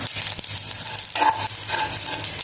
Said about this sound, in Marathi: 1 टेबलस्पून धणे घेतले आहे. अर्धा टेबलस्पून शहाजिरे, अर्धा टेबलस्पून खसखस हे पण आपण तेलावर छान भाजून घ्यायचं.